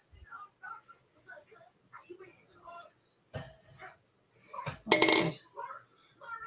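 Penne noodles being stirred in a pot produce light metallic scrapes and clinks in short, separate bursts, ending in a louder clatter, while someone talks between them.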